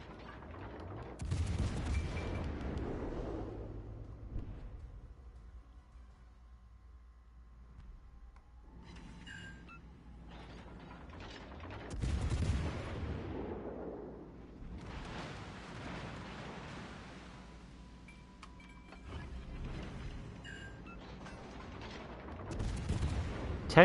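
Naval guns firing shells in World of Warships: Legends, a few heavy booming salvos with long decaying rumbles, spaced several seconds apart and fairly distant in a quiet mix.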